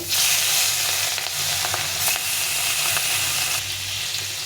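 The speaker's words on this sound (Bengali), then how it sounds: "প্রথমে মাছগুলোকে আমি ভেজে নেব" Fish frying in hot oil crackle and sizzle steadily up close, with a few light clicks from the pan and no speech.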